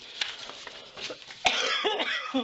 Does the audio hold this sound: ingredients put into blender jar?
no